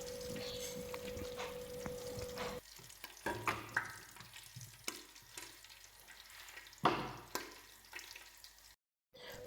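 Oil sizzling in a pan for tuna in tomato sauce, a quiet continuous hiss broken by clinks and stirring knocks, with a short pause near the end.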